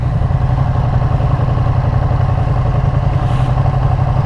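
Steady, loud engine running from a rare Ducati motorcycle, a continuous low drone with no clear revving changes, heard alone without talk.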